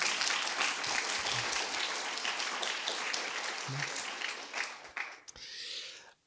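Audience applause after a speaker is welcomed on stage at a Mensa Intelligence Day conference, broad steady clapping from a crowd that thins out and fades toward the end.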